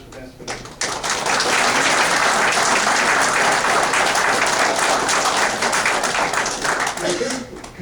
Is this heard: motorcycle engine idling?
no